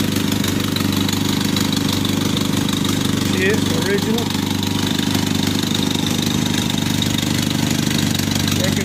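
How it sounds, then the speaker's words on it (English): Original F4-134 Hurricane four-cylinder engine of a Jeep CJ3B idles steadily nearby with a low, even rumble, someone speaking briefly over it. "Original motor, F4, 134, Hurricane,"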